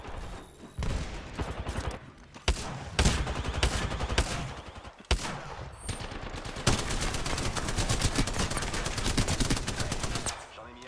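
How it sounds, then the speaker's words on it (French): Bursts of automatic gunfire in a squad-based video game shooter, rapid machine-gun volleys broken by short pauses, then a long sustained stretch of fire, loud and close with battle noise around it. "L'ennemi me tire dessus."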